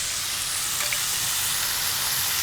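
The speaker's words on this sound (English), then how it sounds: "So I push the pork to one side. In goes our onions," Steady, loud sizzling from onions frying in a hot pan alongside pork, a continuous crackling hiss with no one speaking.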